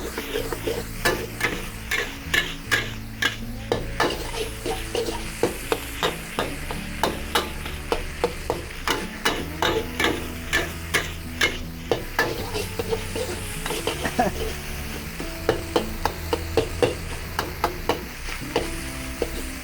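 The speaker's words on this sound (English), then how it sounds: "Now you have to fry." Spicy nasi goreng fried with light and dark soy sauce, a spatula scraping and tossing the rice in a hot pan with steady rhythmic clatter over a constant sizzle, close and loud, with no talking.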